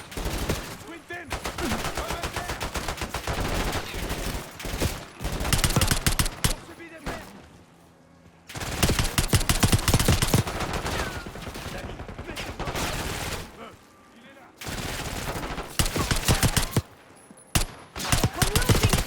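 Gunfire from armed enemies during a Black Ops 6 mission, long loud bursts of rapid automatic fire broken by short pauses, with shouting voices mixed in.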